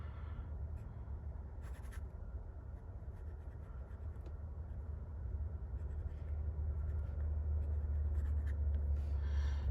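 A Benu fountain pen with a medium nib scratches softly across paper, faint and close over a low background hum.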